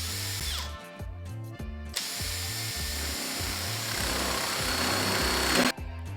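A drill press whirs loudly and steadily as it bores a 20 mm hole in wood, its motor pausing briefly and starting again, with no voices.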